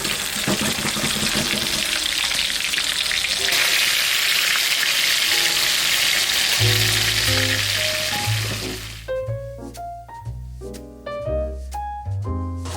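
Hot coconut oil sizzles steadily in a pan, a loud crackling hiss that fades as tonal clinks and music take over toward the end.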